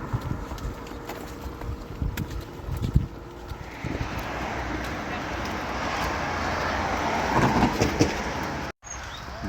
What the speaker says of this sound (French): Le bruit, c'était celui des voitures sur l'autoroute qu'on vient de traverser.